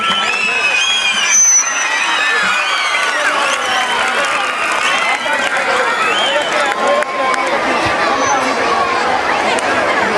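Applause and cheering from an outdoor crowd of displaced Tamil civilians at a concert, a dense sustained wash of clapping with whoops and shouts mixed in, lasting throughout.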